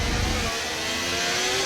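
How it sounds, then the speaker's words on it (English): An F1 race car engine in the F1 25 video game, at the Australian Grand Prix, drones steadily and loud with a continuous revving tone over a short stretch. "Well, let's listen to the engine."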